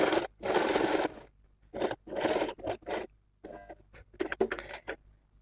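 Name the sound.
sewing machine stitching a co-ord set neckline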